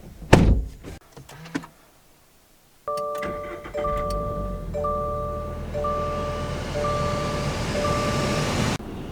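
A 2022 Toyota GR86 manual sports car is entered: a door unlatches and thuds shut nearby, then after a brief silence a steady electronic warning chime repeats over low cabin hum.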